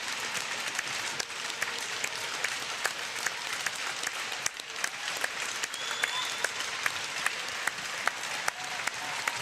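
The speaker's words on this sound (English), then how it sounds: "Let's make some noise for Struan. And we stand in the commentary box. Clap our hands too." A stadium crowd at a rugby testimonial match claps steadily for a long-serving club captain, dense continuous applause with scattered louder claps and faint cheers throughout.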